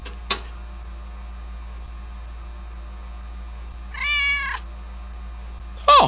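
A cat meows twice in a Five Nights at Freddy's fan game, a drawn-out mew midway and a short one at the end, over a quiet electrical hum with a faint click early on.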